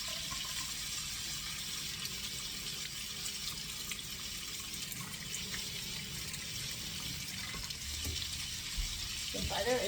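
Cod fillets frying in butter and corn oil give a steady, close sizzle with a broad hiss that holds through the whole stretch, swelling slightly toward the end.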